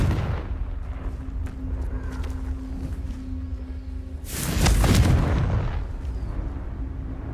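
Confringo spell in the video game Hogwarts Legacy: a loud, roaring blast bursts out midway and fades over about a second, rising above a steady game-ambience bed with a low hum.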